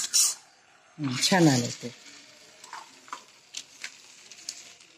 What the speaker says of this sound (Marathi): तेल आलंय का नाही ते बघते मी एक टाकून